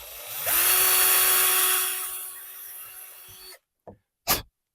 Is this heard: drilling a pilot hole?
yes